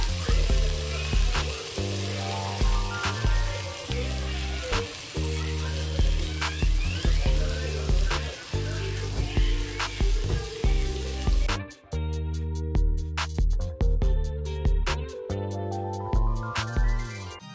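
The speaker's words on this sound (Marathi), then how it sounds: "शॅलो फ्राय करूया." Chicken seekh kababs shallow frying in oil in a pan, a steady loud close sizzle with crackling pops throughout, briefly shifting in tone partway as the pan or kababs are moved.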